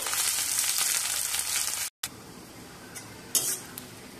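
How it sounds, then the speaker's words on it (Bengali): Beresta, thinly sliced onions, fry in a very hot iron wok with a dense, close sizzle that drops out briefly, then resumes more softly with a few clinks of a utensil against the metal. "মাঝারি আঁচে বেরেস্তাটা ভেজে নিলাম, বেশি আঁচ দিলে কালো হয়ে যাবে"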